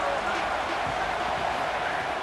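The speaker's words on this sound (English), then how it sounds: "This crowd trying to make life miserable for this offense." A football stadium crowd roars in a sustained, loud, unbroken wall of noise against the Texas offense, steady for the whole stretch.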